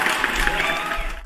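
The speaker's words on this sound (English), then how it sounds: "Let me give you guys another round of applause" Applause sound effect on a crypto livestream: a dense, steady wash of many hands clapping, fairly loud and unbroken for about a second before stopping abruptly.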